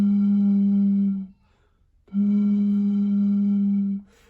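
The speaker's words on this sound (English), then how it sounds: "if you were to blow slowly over this pop bottle, you might get a sound like this" Breath blown slowly across the mouth of a pop bottle makes two steady, hollow, flute-like tones, each held for over a second with a short pause between, quiet and close.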